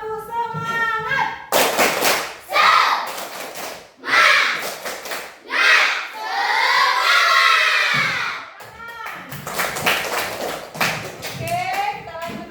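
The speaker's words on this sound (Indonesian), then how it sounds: "Ayo, tepuk semangat." A class of children at school doing the tepuk semangat clapping chant, rhythmic bursts of group claps and thuds alternating with loud shouted chanting voices, close and lively.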